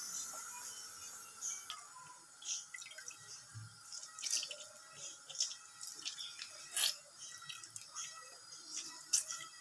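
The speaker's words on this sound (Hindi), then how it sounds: "अब फिर मैंने ना दोबारा उसी चीज़ को दबा दबा कर उसमें से पानी निकाल लेना है।" Whey drips and trickles from homemade mozzarella cheese being squeezed by hand, quiet scattered drops and small wet splatters at close range, irregular and faint, with no talking.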